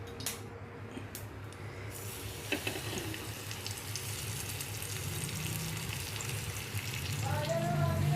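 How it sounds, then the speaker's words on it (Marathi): Spiced fish frying on a tawa, a steady soft sizzle of oil throughout with a faint scrape or press near the start, growing slightly louder toward the end. "छान फ्राय होतो."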